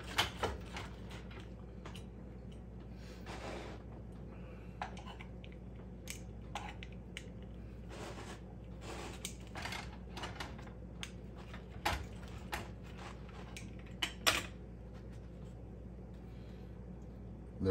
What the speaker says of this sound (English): let's cut into this pizza